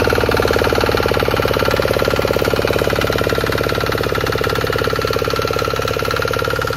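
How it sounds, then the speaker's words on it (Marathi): A tractor with a plough attached runs on a farm field, its engine close and loud with a steady, rapid knocking pulse that continues without a break. "आता इथं ट्रॅक्टरला नांगर लावतात"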